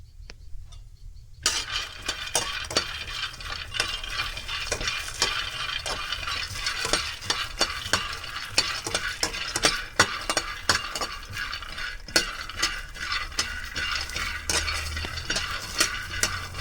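Peanuts roast in a pan on a gas stove while being stirred continuously, giving a steady, close rattling and scraping with frequent small clinks and a dry sizzle throughout.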